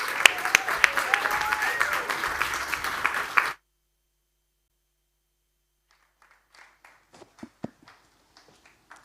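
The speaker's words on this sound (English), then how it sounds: "let's please give a big warm round of applause for our excellent panel" An audience welcomes a panel at an ocean-protection talk with a few seconds of lively clapping that cuts off abruptly, followed by silence and then faint scattered taps and handling sounds.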